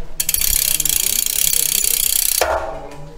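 A ratchet clicks rapidly and steadily for over two seconds while tightening a bolt on SRAM road bike brakes, then stops abruptly, close and clear.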